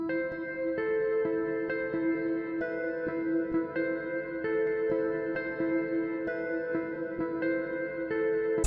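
A clean jazz guitar plays a repeating arpeggiated melody for a hip-hop beat, plucked notes ringing in a steady pattern at moderate volume with no voices.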